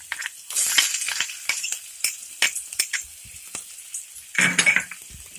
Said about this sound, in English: now saute them